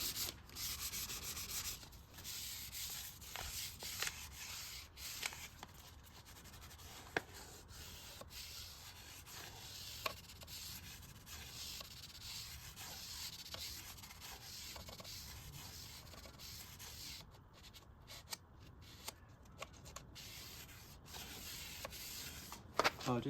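Sandpaper is rubbed by hand over wooden furniture in a quick going-over, giving a soft continuous scratchy rasp with uneven strokes, close and quiet with no talking.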